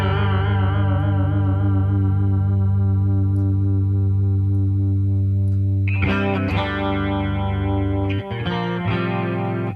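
Distorted electric guitar run through an Axe-FX chorus effect with reduced depth, a sustained wavering chord ringing loud and close, then a few restruck chords near the end.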